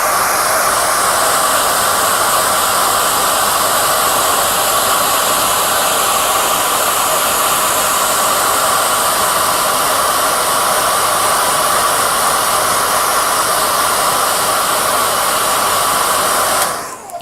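A heat gun blows hot air steadily onto fairing decals on a 1:12 Tamiya Repsol Honda RC211V '03 motorcycle model, a loud, even whooshing roar running unbroken for about seventeen seconds before cutting off.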